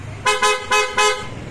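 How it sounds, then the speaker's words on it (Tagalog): A PIAA Otostyle horn fitted to a Kymco AK550 scooter honks four short, loud blasts in an even rhythm, each bright and steady, close by with no talking. "Tapos yung busina, PIAA Auto Style."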